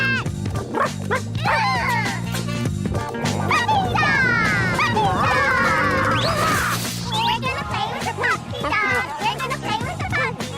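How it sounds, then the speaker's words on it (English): A cartoon puppy dog barks in a series of close, lively yips and bow-wows mixed with excited cartoon voices and music. "We're gonna play with the puppy dog!"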